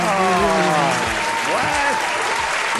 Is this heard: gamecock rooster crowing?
no